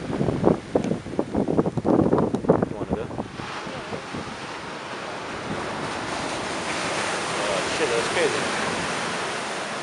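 Waves break on a beach below a hill with a loud, continuous surf roar that builds and swells. Voices are heard briefly at the start before the wash of water takes over.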